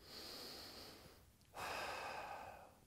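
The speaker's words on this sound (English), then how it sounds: "breathing deep." Deep breathing during a martial arts flexibility stretching exercise: one long audible inhale followed by a stronger exhale, close to the microphone, with no talk.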